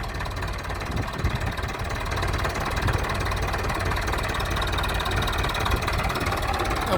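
A 265 S tractor engine idles and chugs slowly and steadily throughout, a continuous low rumble with no talking.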